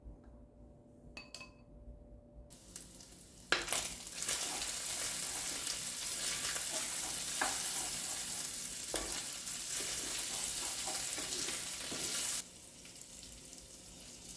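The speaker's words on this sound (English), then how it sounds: "throw our bacon on our skillet, cook it through completely" Bacon sizzles loudly in a hot skillet, a steady close frying hiss that starts abruptly after a few quiet seconds with a light clink, holds with small pops, then cuts back down near the end.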